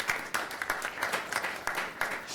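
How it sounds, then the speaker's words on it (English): Applause at an economic development forum, a faint, brief round of scattered hand claps from an audience at a distance with no talking. "And so I give you a round of applause, Dr. Jackson"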